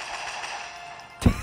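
A single sharp shot rings out in a mobile shooter video game, brief and punchy after a stretch of quiet synthetic game tones.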